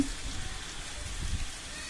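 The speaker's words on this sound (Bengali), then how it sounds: "বৈরি আবহাওয়া চলছে চারিদিকে বৃষ্টি হচ্ছে" Steady rain falls during Cyclone Remal, heard as a continuous soft patter on surfaces throughout, fairly quiet and even, with no voices.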